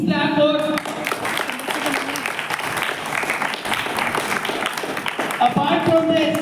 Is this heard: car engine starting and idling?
no